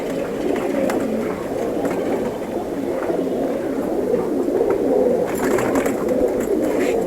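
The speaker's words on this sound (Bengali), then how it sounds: "এগুলো সব অনেক পুরনো পুরনো কবুতর" Several old male pigeons coo in low, overlapping murmurs that run continuously, close by and fairly loud, with no talking.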